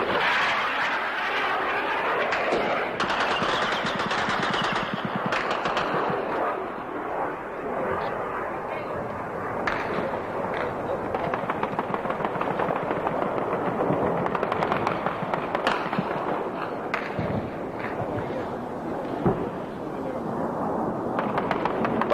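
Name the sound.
anti-aircraft gunfire during Falklands War air raid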